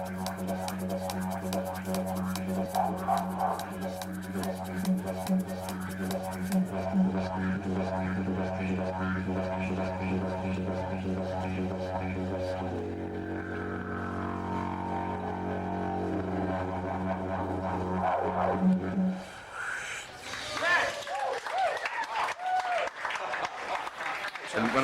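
A busker's didgeridoo on the London Underground drones low and steady for about twenty seconds, its pulsing rhythm under faint talk, before breaking into louder noise at the end.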